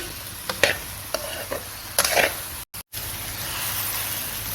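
Spoon stirring vinegar into a chicken jalfrezi mixture in a pan, giving a few short scraping strokes over a low sizzle, with a brief dropout partway through.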